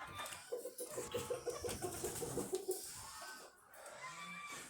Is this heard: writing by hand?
no